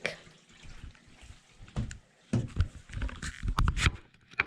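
Water splashes and trickles in irregular bursts as an outdoor aquarium tank is drained, fairly close and quiet, with faint gaps between the gushes.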